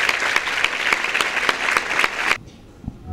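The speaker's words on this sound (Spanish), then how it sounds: "¡Fuerte el aplauso!" An audience applauds at a radio station's twentieth anniversary celebration, a dense, loud clapping that holds steady for over two seconds and then stops abruptly, leaving near quiet.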